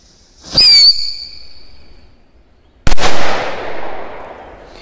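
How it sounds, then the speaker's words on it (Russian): A whistling firecracker shrieks with a sharp rising whistle lasting about half a second, then after a pause bursts in a single loud, close bang whose echo trails away. "вот такую петарду со свистом"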